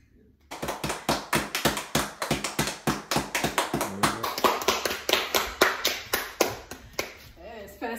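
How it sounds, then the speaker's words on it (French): An audience gives a guest a round of applause, claps landing in a brisk, even, rhythmic pattern for several seconds, close and crisp, before tapering off at the end. "Une bonne main d'applaudissements pour cette madame."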